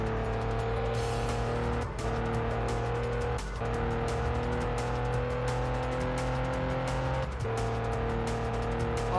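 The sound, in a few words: Pagani Zonda car driving in Test Drive Unlimited video game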